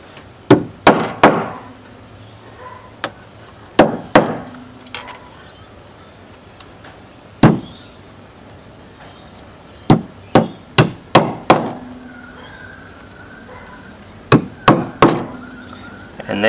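Wooden plugs tapped into counterbore holes in timber decking, giving sharp hollow knocks in small clusters of two or three, spaced irregularly with pauses between, loud and close.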